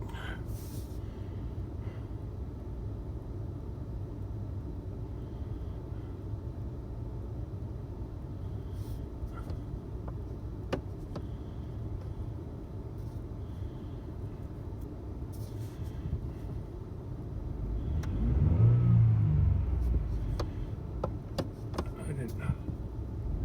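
A four-wheel-drive vehicle idles in a pasture with a low, steady engine rumble, then revs briefly into a louder surge near the end before settling back.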